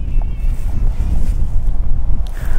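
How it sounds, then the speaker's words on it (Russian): Strong wind buffets the microphone in a steady low roar during a cedar nut harvest, gusting throughout with no voices. "такое ветрище тут"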